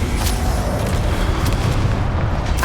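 A Confringo fire spell explodes in the Hogwarts Legacy video game, a loud, continuous booming roar with heavy low rumble and a few sharp bursts layered on top, with no speech.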